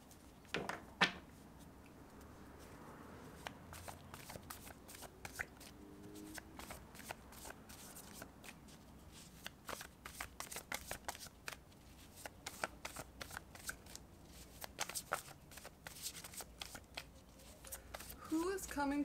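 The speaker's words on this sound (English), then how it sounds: "let's go ahead and pull some cards. So let's pull some tarot" Tarot cards shuffled by hand in a quiet room, a steady run of soft riffling slaps and flicks across the whole span, close and fairly faint, with no talk over it.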